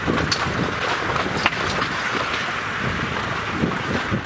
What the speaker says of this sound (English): I can't hear exactly with the wind